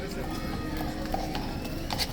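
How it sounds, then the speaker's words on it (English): Horses' hooves clip-clop on wet ground in the rain at the arches during a police and King's Guard area visit, a steady patter of hoof strikes under constant rain hiss with a voice talking over it. "At least we get to see those two new horses."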